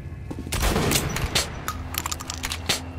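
Gunfire in the video game Metro: Last Light, a burst of rapid shots up front followed by scattered sharper cracks and clatter, loud and close with steady game ambience underneath.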